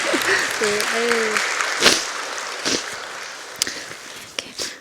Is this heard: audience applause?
yes